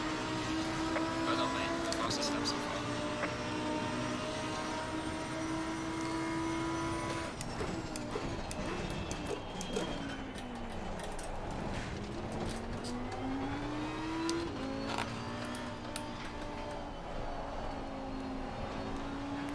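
Lamborghini Huracan GT race car in Assetto Corsa Competizione at the Nürburgring, GT Open: a steady, loud engine drone whose tones climb and drop sharply with each upshift and braking downshift, running throughout.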